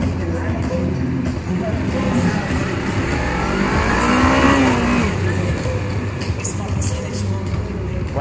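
A motorcycle engine accelerating, a loud, close revving drone whose pitch climbs and then settles, with someone talking over it.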